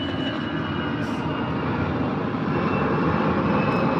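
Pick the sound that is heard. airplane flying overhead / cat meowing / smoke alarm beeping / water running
airplane flying overhead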